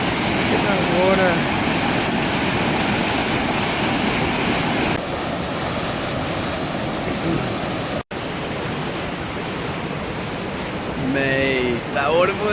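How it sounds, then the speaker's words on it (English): A powerful waterfall on Don Det rushes with a loud, constant roar of churning water, heavy with wind buffeting the microphone. Brief voices rise above it now and then. "Mate, that waterfall is so cool."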